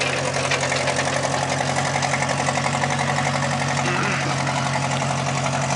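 A 1957 Massey Harris Ferguson Hi F40 tractor with a Continental Z134 engine idles nearby, its steady mid-low rumble running on while the hydraulics work at the back.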